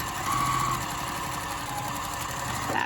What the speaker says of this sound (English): I like the back stitch, no matter what I'm sewing.